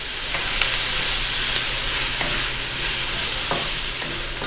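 Onions and minced garlic stir-fry with pork belly, a steady close sizzle with periodic scraping stirs of the spatula throughout.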